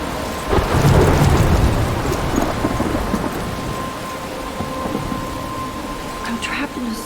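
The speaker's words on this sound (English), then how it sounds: "I'm trapped in a storm?" A thunderstorm in the Life Is Strange video game: a heavy thunder rumble rolls in near the start, then dense rain hisses steadily. Fainter crackles and distant rumbles follow.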